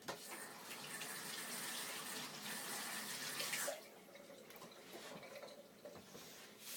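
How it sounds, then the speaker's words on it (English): Running tap water splashes steadily over a hand as egg yolk is rinsed off in a kitchen sink, close and fairly loud, then the flow softens to a quieter trickle partway through, with no talking. "Wash some of that yolk off my hand here."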